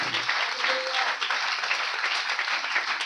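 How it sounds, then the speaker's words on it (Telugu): A congregation applauds at a Telugu Christian festival gathering in Narasaraopet, a broad, sustained wash of clapping with no voices. "చప్పట్లు కొట్టేడు భక్తులారా."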